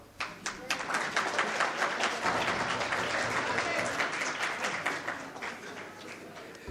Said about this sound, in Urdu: آپ تالیاں بجائیے